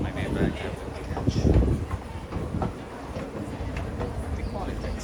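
A tram passes on a street in Duisburg, Germany, with a steady rumble and a few clicking rattles, close and fairly loud, against wind noise and outdoor background.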